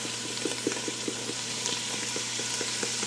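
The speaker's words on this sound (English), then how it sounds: "Here's a 1/4 cup of flour that I'm going to put in there and brown real good." A quarter cup of flour browning in sausage grease for a potato soup roux, a continuous close sizzle with soft, regular scraping taps as it is stirred.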